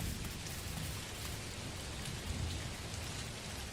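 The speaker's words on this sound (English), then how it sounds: "And it's now raining again, so I can't see my fish." Steady rain falls in the video game Dinkum, a dense, even hiss with low rumbling underneath that holds at a constant level throughout, with no talk.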